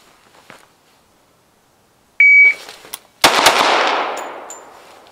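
A shot timer gives one sharp electronic beep during a concealed carry drill, then a loud gunshot cracks and rings out into a long decaying echo.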